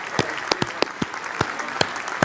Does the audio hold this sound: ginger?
no